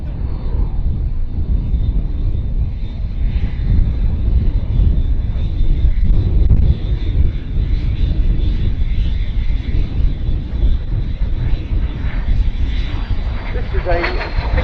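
A vintage de Havilland Vampire FB.II single-engine jet passing at an air show at Duxford, a loud sustained roar with heavy low rumble and wind buffeting that swells and stays strong, ending with a rising whine.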